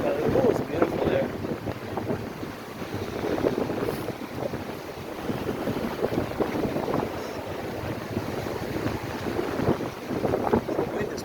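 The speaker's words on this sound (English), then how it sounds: "The wind is pushing me around." Wind buffets the microphone while someone bicycles along a beach at Fort Myers Beach, Florida, a steady loud rushing roar with gusty swells that continues without letup.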